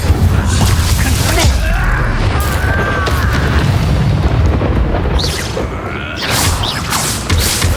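A loud fiery spell blast booms out during hectic magic combat in a fantasy wizarding game, with rumbling impacts, crackling bursts and faint effects layered over one another for several seconds.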